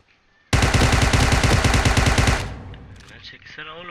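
Automatic gunfire from the video game PUBG, a loud continuous burst of rapid shots lasting about two seconds, then fading into quieter game sounds.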